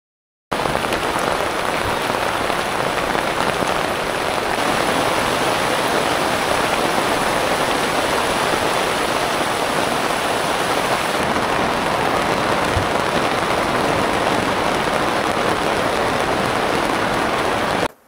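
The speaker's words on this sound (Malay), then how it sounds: "Oi, hujan turun akhirnya." Rain falling steadily at a campsite, a dense even hiss of drops on surfaces that stays loud and close from start to finish, with no talk.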